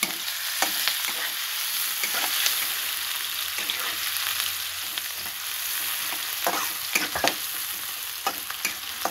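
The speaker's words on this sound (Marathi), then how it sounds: "आता चांगला कांदा तळून घेणार मी त्याच्यात." Onion frying in hot oil in a pan for a sprouted moth bean curry, a steady close sizzle broken by frequent scraping stirs.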